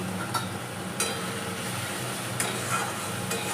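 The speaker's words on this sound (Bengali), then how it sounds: "এটাকে একটু একটু কষতে দেবো, আর টমেটোটাও একটু নরম হবে।" Masala with tomato sautéing in a pan, a close steady sizzle with soft stirring scrapes and a few sharp clinks, no voices.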